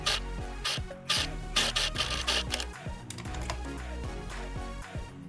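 A sewing machine stitches a homemade cloth summer mask with cooling towel lining, giving off a close, busy mechanical whir with rapid rhythmic clicking and ratcheting in short bursts and brief pauses.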